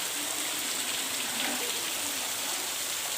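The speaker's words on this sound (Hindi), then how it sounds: "आज बहुत तेज़ बारिश हो रही है" Heavy rain pours down in a dense, steady hiss, close and constant, with no voices.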